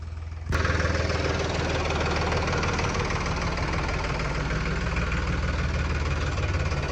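A tractor engine starts up abruptly and then runs at a steady, loud idle with a low, knocking rumble, close by and with no voices.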